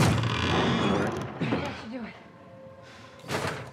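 A door in the video game The Last of Us Part 1 slams shut with a heavy thud and a brief mechanical clunk. Voices talk over and around the impact.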